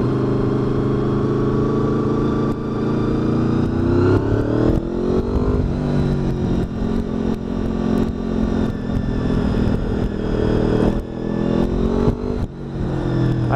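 A Honda VFR 800 motorcycle engine runs steadily while being ridden, a continuous loud mid-pitched drone with small swells as the revs rise and fall, alone without talk.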